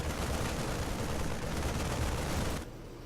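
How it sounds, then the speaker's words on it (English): A squad of eight StarCraft Marines firing at rocks, a continuous dense crackle of rapid gunfire held steady for a few seconds before dropping off abruptly. "Group of, 8 Marines shooting rocks"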